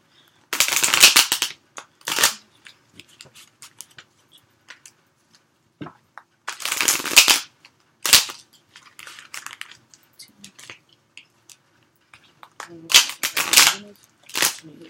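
Tarot cards being shuffled up close in several brisk riffling bursts, separated by quieter stretches with soft taps and handling noises.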